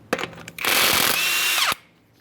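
An impact tool spins off 21mm lug nuts from a Ford F-150 wheel: a few short rattling taps, then a loud, close whirring burst lasting about a second before cutting off.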